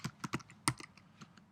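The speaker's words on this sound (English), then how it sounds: "Next step is to type in the address." A web address is typed on a computer keyboard, giving a short, quiet run of uneven key clicks with a few sharper taps, close up and without any voices.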